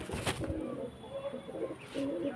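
Soft, low tumbler pigeon coos repeat a few times, fairly faint against a quiet background hiss.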